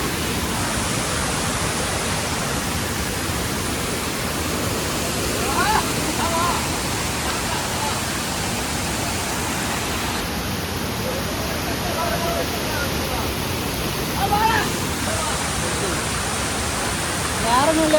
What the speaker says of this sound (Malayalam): നിറച്ച് വെള്ളം കേട്ടോ, അടിപൊളി വെള്ളം